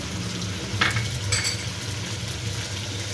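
Spices for green keema, including crushed red chilli, turmeric and ground red chilli, fry in a pan, a steady sizzle with a couple of brief metal spoon scrapes from stirring, close and moderately loud, with no talking.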